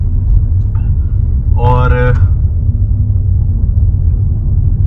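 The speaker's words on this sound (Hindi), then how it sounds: "हमारी गाड़ी काफी धीरे धीरे चल रही है" A car drives slowly with a steady, loud low engine rumble throughout, while someone talks briefly over it.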